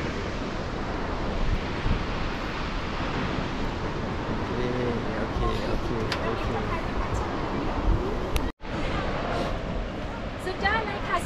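Tad Fane waterfall near Pakse, Laos, a broad, continuous roar of rushing water that stays steady and loud throughout, with wind buffeting the microphone and one brief dropout.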